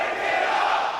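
A live crowd at a Call of Duty League Major esports event in Texas roars and cheers in one brief, dense burst of voices.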